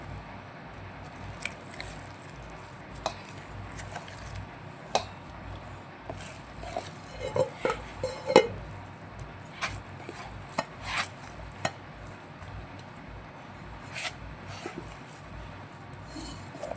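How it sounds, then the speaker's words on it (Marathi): Boiled potatoes being cut into small pieces on a board, a series of soft irregular knife taps and squishy thuds, faint and close, with no talk over them. "अशाच पद्धतीने आपण आता सर्व बटाटे बारीक करून घेऊया"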